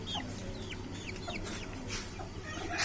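An Aseel hen clucks in short, chirpy bursts close by, over a low steady background hum.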